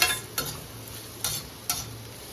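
Onions frying in a pan for a stuffed eggplant dish, with a low steady sizzle under several sharp stirring scrapes spaced through the stretch, no talk.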